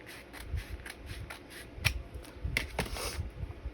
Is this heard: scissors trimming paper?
yes